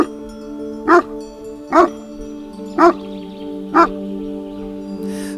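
A Kangal, a Turkish shepherd guard dog, gives four evenly spaced loud barks, close by, over a steady low hum.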